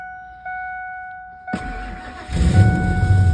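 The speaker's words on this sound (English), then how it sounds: "Fires up, like, immediately." Ford F150 pickup fitted with a swapped Lincoln Navigator engine cranking after a chime and catching almost at once, settling into a loud rough idle up close.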